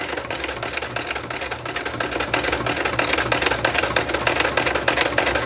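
Sewing machine running while lace is stitched onto a book cover, its wheel slowed by hand, giving a continuous fast mechanical chatter with rapid regular ticks that gradually grows slightly louder.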